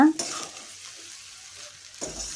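Egg fried rice being stirred in a hot pan after pepper powder and salt are added, a soft steady sizzle with a few scraping clatters at the start and end, close and with no talking.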